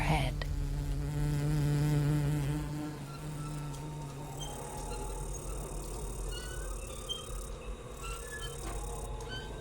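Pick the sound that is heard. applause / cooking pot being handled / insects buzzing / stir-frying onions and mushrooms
insects buzzing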